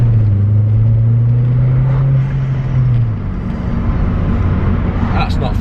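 Vauxhall Zafira GSI with a stage 2 tune, heard from inside as its engine pulls under partial boost, a steady loud drone rising gradually in pitch and then easing off, with road rumble throughout.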